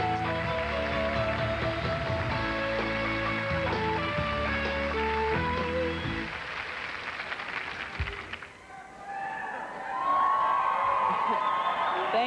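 An awards ceremony audience breaks into cheering and applause, which swells loudly after several seconds of orchestral music fade out, a broad crowd roar with whoops carrying to the end.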